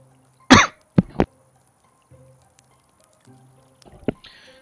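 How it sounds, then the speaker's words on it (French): A small cough from a man during a fantasy game session, sharp and close, followed by a couple of quick throat-clearing bursts, then quiet faint shuffles and clicks in an otherwise still room. "Excusez-moi la petite toux."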